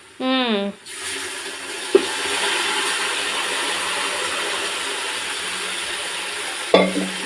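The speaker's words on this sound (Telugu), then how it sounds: "ఇప్పుడు ఈ చికెన్ ఏం చేస్తాము ఈ ఫ్రైలో వేసేసేది ఓకేనా" Marinated chicken for chicken dum biryani is dropped into hot oil and fries with a loud, steady sizzle, with brief clatters of stirring; a short voice is heard at the very start.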